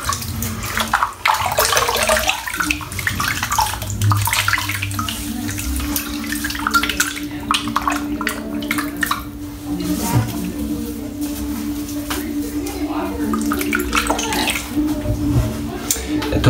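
Water runs steadily from a bathroom tap as a razor is rinsed during a head, cheek and neck shave, a continuous close hiss of flowing water throughout.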